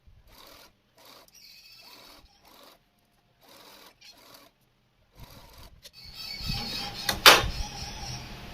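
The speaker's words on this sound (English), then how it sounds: "So I'll go ahead and sew with 1/2 inch seam allowance." A sewing machine stitches a seam with a half-inch allowance while a lined poncho kimono jacket is being made. It starts in short, quiet bursts, then runs louder and steadier toward the end.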